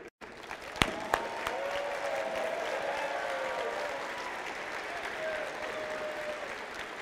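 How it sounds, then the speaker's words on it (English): Sustained applause from an audience at a robotics district event's opening ceremonies, honoring the judges as they stand; steady, fairly distant clapping fills the whole stretch, with a couple of sharp louder claps near the start. "Please give a warm round of applause for our judges"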